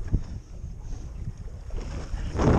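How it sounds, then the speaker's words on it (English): Wind gusts buffet a fishing boat at sea, a low rumbling roar of wind against the microphone with water and hull noise, steady and close, swelling louder at the end. "Bit of wind just come up, guys."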